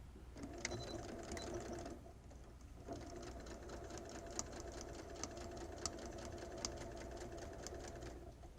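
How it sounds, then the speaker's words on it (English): A sewing machine stitches a seam around an in-seam pocket, with a quiet, fast, steady mechanical whir, a short pause near two seconds, then resumed stitching with faint regular clicks. "just going to sew right around where we pinned all the way from the top of the seam line around our pocket"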